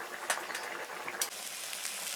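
Greens (saag) frying in a pan on a home stove, a steady soft sizzle and crackle with a few brief louder spits, close and moderately quiet with no talking.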